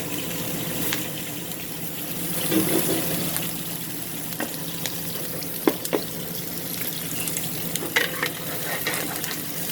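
Pork ribs fry in lard over medium heat while being stirred, a steady sizzle with occasional scraping and clicking from the stirring, close and moderately loud, with no voices.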